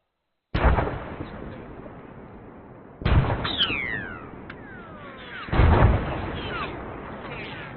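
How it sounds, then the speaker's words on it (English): Incoming enemy artillery rounds during a military field training exercise land as three sharp, heavy impacts spaced a few seconds apart. Each impact rolls off into a long echoing rumble, and faint whistling sounds come between the blasts. "Be advised, enemy IDF is inbound."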